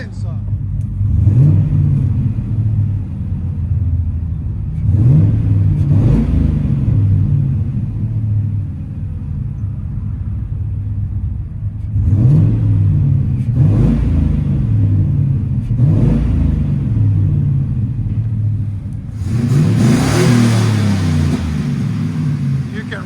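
Cammed 6.0L V8 in a 2007 Chevy Van breathing through a Flowmaster 40 exhaust, a loping rumbling idle broken by several sharp revs, close and loud on a cold start.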